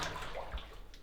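Drainage water flows steadily in an abandoned copper mine, a continuous close rushing wash and slosh with no talk.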